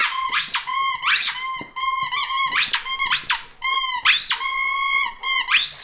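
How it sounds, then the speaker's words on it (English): A squeaky dog toy squeaks again and again in a quick, uneven rhythm, each squeeze giving a sharp, high, rising squeal, loud and close with nothing else behind it. "Squeaky squeak."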